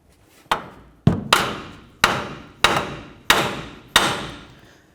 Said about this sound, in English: it's best to hit right along the knuckle.